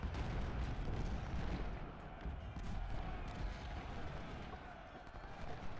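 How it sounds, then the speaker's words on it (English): Rifle volley in the video game Ultimate General: Civil War, a dense, rumbling wash of massed musket fire and battle noise that holds at a steady level with no distinct individual shots. "Nice little volley there right before Crocker and Sharp's brigades"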